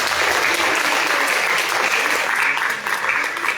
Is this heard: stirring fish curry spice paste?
no